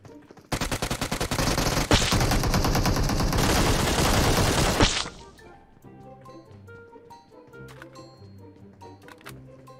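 Loud rapid automatic gunfire from a video game rattles in one continuous burst for several seconds, then cuts off, leaving quieter game sounds and music underneath.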